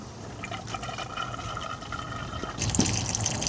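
Coolant drains and trickles from a loosened screw on the expansion tank of a BMW E-model car, a faint steady liquid flow that grows louder and splashier near the end, with no voices.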